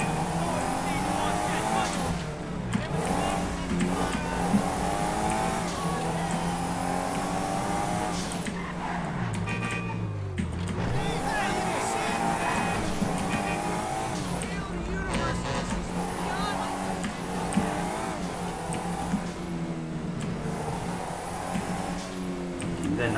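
A car engine in the video game GTA 5 revs up and down in repeated rising and falling sweeps, with occasional tire noise. It sounds loud and close, and voices talk over parts of it.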